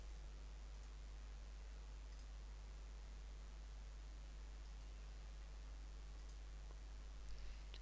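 A computer mouse clicks faintly and sparsely while a plugin is installed and activated in WordPress, the few soft clicks sitting over a steady background hiss.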